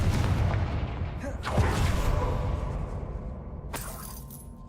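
The Confringo fire spell from the Hogwarts Legacy video game bursts with a sharp blast and a crackling, shattering tail that fades, followed by another bright impact near the end.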